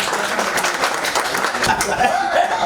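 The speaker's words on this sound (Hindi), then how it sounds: "एक बार जोरदार तालियां कलकल जी से।" Applause from a live Hindi-language stage audience, a steady dense wash of clapping with a few scattered chuckles, close and loud throughout.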